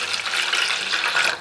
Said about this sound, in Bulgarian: Сега, след това ще добавя малко вода към самият сок на бета ингрина.